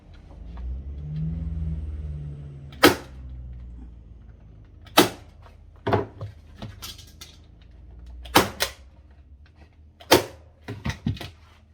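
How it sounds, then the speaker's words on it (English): Staple gun firing staples through canvas into a wooden stretcher frame, about eight sharp loud snaps spaced irregularly, some in quick pairs, after a low rumbling hum, with no talking. "So again, pull hard and staple."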